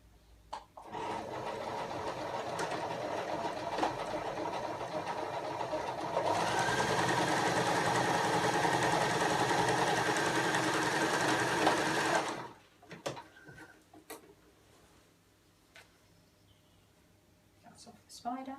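A sewing machine runs a long continuous seam on a girl's dress, speeding up partway through before stopping abruptly, followed by quiet handling clicks and a voice.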